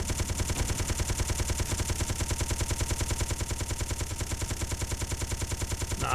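Rapid automatic gunfire from an enemy combat vessel in the space game Space Engineers, a fast, evenly spaced stream of punchy shots repeating steadily and loudly without pause.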